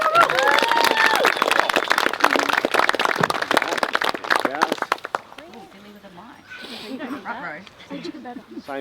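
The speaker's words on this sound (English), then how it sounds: "Round of applause for Seb." Wedding guests clap and cheer during a ceremony, a dense burst of close applause for several seconds that fades out as voices and chatter take over.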